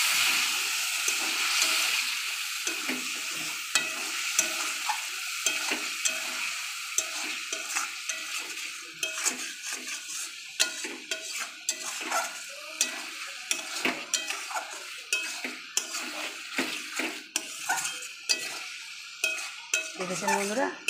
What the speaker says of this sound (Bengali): মাংস সিদ্ধ করা যে জলটা, এই জলটা আমি এখানে একটু একটু করে মশলায় দিয়ে দেবো, দিয়ে মশলাটা ভাজা ভাজা করে নেব।